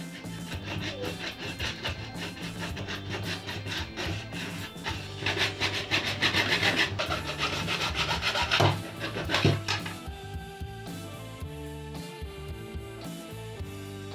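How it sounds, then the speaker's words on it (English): A handsaw cuts through PVC pipe in steady back-and-forth strokes, a dense rasping rub that builds toward the end of the cut and then stops, leaving quieter background noise. "First I cut a PVC pipe with handsaw."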